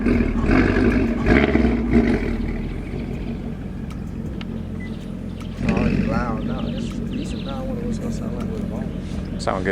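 A 6th gen Chevrolet Camaro SS with a muffler delete rumbles deep and loud, swelling in a rev around the middle, while people talk over the exhaust.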